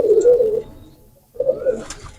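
Young golden pigeon chicks cooing softly up close, two low, breathy coo phrases separated by a brief pause, with a faint higher chirp near the end.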